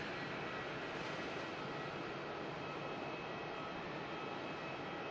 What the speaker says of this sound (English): check out that Qatar still making its big turn out there